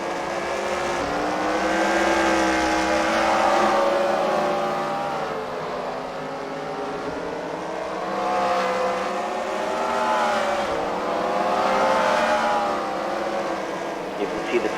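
Race cars in a Fight Night round at the Freedom Factory roar around the track, engines swelling and receding in repeated passes, loud and continuous beneath an excited commentator's voice.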